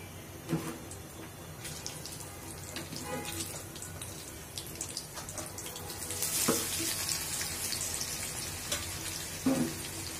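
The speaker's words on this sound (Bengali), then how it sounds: "এদিকে তেল গরম হচ্ছে, তেলে পেঁয়াজ পাতা ও অন্যান্য মশলাগুলো এখন দিয়ে নিব আমরা" Onion leaves and spices fry in hot oil with a soft, steady sizzle. Irregular clanks and splashy bursts come from a utensil at the pan, the hiss swells brighter past the middle, and someone speaks faintly in the background.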